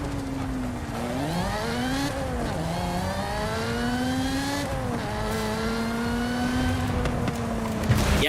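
An aggressive four-cylinder car engine in Forza Horizon 5 revs loudly and continuously, its pitch rising and falling through several gear pulls, with a brief tire-squeal-like burst near the end and no voices.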